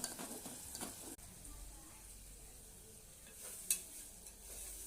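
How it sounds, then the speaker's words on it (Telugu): Chilli powder stirred in a frying pan while making gongura chicken, soft scraping and faint sizzle close by, with a sharp utensil knock partway through, quiet overall. "కారం తిప్పుకోవాలి. మాడిపోకుండా తిప్పుకోవాలి."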